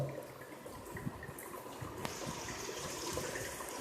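Water trickling into a tank through a solenoid valve, a faint continuous flow with small splashes and drips.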